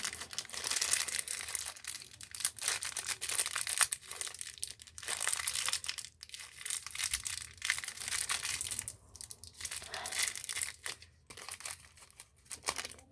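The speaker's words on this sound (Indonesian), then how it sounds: "dalamnya ini dibungkus oleh plastik ya, mirip percis" Hard plastic wrapping around an NTN front wheel bearing for a Yamaha Mio scooter crinkles and crackles up close, in loud irregular bursts of crumpling with brief pauses, no voices.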